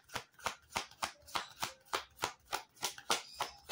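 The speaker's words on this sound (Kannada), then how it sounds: "ಮೊದಲು ಕಾರ್ಡ್ ಶಫ್ಲಿಂಗ್ ಅನ್ನ ಮಾಡ್ಕೊಳ್ಳೋದ್ರ ಮೂಲಕ ರೀಡಿಂಗ್ ಅನ್ನ ತಗೊಂಬೇಡ" Tarot cards are shuffled by hand in quick, even riffles, about three per second, quiet and close with no talking.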